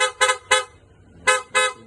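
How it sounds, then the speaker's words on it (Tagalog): A PIAA horn fitted to a Honda Click scooter honks in short bursts: three quick toots, a pause, then two more, loud and close. "Busina."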